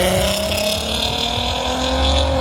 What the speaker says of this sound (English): But now we are going to check out some cars leaving the show.